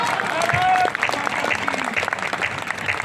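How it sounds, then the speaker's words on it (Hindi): An audience at a kavi sammelan poetry recital in Mungwali applauds with a dense, lively patter of clapping, while a voice is briefly heard over the start of the applause. "आपकी तालियां मुझे कम लग रही है,"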